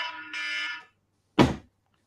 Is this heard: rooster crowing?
no